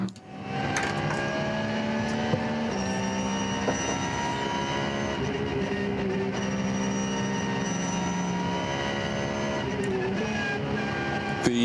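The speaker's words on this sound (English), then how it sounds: "Very standard looking Porsche Cayman." A Porsche Cayman race car at an NLS endurance race drones through its engine note, with pitch shifting as it changes gear and accelerates, heard steadily on track with no talk.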